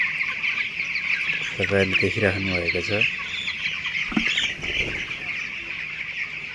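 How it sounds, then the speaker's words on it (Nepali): A flock of 19-day-old broiler chickens in a farm shed, with a steady band of chirping and clucking running through the whole clip while someone speaks over it in the middle. "हाम्रो आज यो 19 दिनको कुखुराको चल्लाहरू हुन्।"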